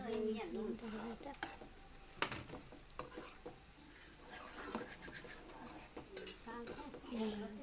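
Okra and tomato curry simmering in a pan over a low flame, with soft sizzling and stirring scrapes, occasional spoon clinks against the pan, and some faint background voices.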